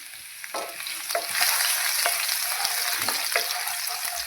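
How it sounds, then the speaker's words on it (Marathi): Five or six crushed cloves of country garlic frying in oil in an iron pan, a steady close sizzle with occasional stirring clicks and scrapes, no voices. "इथे मग लोखंडाचा पॅनच ठेवला आहे मी, त्याच्यामध्ये तेल घालून घेतलं आणि एक 5-6 पाकळ्या लसणाच्या अशा ठेचून घेतल्या"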